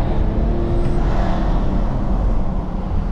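A Porsche sports car's engine gives a loud, steady roar close by, like a car driving past or pulling away, with no voices over it.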